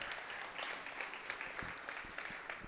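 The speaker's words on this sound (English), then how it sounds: "So big round of applause to you guys." A round of applause from an audience at a brewing talk event in Asheville; a steady crowd clapping with a few sharper individual claps standing out near the front.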